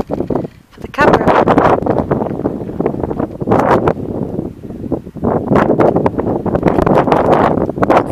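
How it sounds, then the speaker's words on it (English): Fierce wind buffets the camera microphone during a countryside walk near Cheddar and Draycott Sleights, a loud, steady rumbling roar that surges and dips but never lets up. "It's warm actually, the wind is just a bit fierce."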